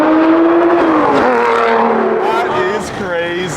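A car engine downshifts with loud, close blips, its pitch sliding down and then rising again in quick revs. Excited voices talk over the engine throughout.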